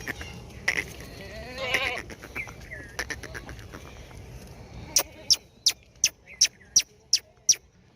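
Goats bleat at a market selling animals before Eid, a few short, wavering calls among people talking, followed by a regular run of sharp clicks or taps.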